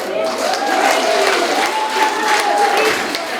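An audience claps and cheers in a dense, steady burst of applause, with a faint whistle-like tone ringing through.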